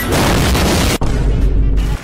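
Rapid gunfire rattles through a GTA 5 gameplay scene, dense loud bursts with a brief gap near the middle, no talk heard.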